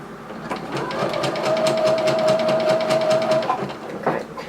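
A Brother SE400 embroidery sewing machine stitches a zigzag while stuck in reverse, producing a rapid, even mechanical clatter close by. The stitching rattles for about four seconds, with a brief high tone partway through.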